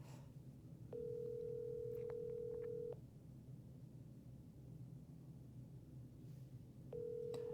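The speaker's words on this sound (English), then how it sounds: "hopefully you guys can hear the phone." Ringback tone on an outgoing cold call to a for-sale-by-owner seller: a faint steady electronic ring lasting two seconds, a long pause, then the next ring starting, over a quiet hiss.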